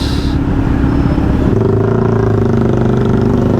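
A Kawasaki Z900 SE with its bread box removed, running through a JPT muffler, gives a loud, steady, close exhaust rumble that shifts slightly in pitch partway through, with no talking.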